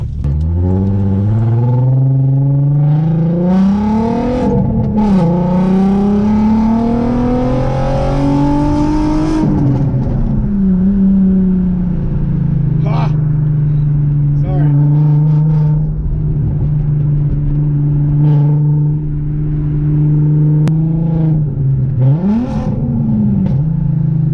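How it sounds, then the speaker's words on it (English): A car on its first drive after a new brake line install, its engine revving up and settling into a steady loud hum from inside the cabin, with shifting pitch as it accelerates and cruises, and no voices. "So I guess we just gotta drive a little bit and see what happens."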